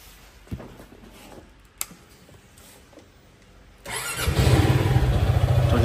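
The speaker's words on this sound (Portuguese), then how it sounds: "Deixa eu deixar esquentando aqui a moto," A Zontes motorcycle engine cranks and fires up partway through, settling into a loud, steady running idle to warm up after a few quiet clicks and knocks.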